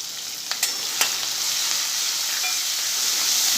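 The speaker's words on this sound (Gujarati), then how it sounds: "આપણે 1 મિનિટ આને સાતળી લઈશું અને મરચાં પણ સરસ સંતળાઈ જાય અને આપણે સિંગદાણા પણ સરસ તળાઈ જાય।" Crushed green chillies and peanuts fry in hot oil in a pan for masala poha, a steady close sizzle with a few sharp pops and stirring clicks near the start and no talk.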